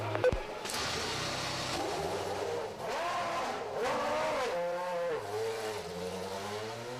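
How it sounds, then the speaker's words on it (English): Formula One race car from the 2001 Japanese Grand Prix warming up in the pit area, its engine droning and revving continuously with rising and falling pitch, loud and close, with no talk over it. "Warm up the engine."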